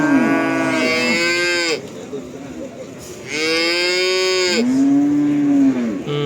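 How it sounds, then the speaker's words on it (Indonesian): A young Simmental bull calf at a busy cattle market gives two long, loud, close moos separated by a short pause, with faint background murmur between calls. "ini anak jantan simental"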